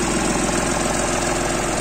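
A 2012 Jinma 244 Chinese tractor engine idles close by, a steady, loud diesel chug with an even rapid knocking pulse throughout and no voices.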